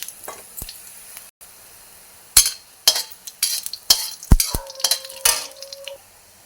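Dried red chillies, dry ginger and coriander seeds roast in a pan, heard as sharp irregular scrapes and clinks of a metal spoon against the pan over a faint dry sizzle, close and fairly loud.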